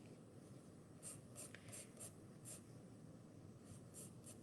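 A pencil draws on paper, heard as several short, faint scratchy strokes close up in an otherwise quiet room, spaced irregularly over a few seconds.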